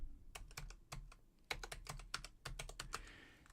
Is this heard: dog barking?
no